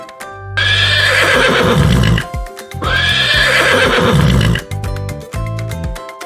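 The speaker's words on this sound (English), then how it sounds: "A horse." A horse gives two loud, shrill whinnies, each falling off into a shaky neigh, over a bright, bouncy background music track.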